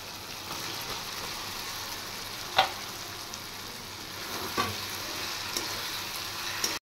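Fried potatoes and soya chunks go into oily spiced masala in a pan. A continuous close sizzle runs throughout, with a few clinks and stirring scrapes.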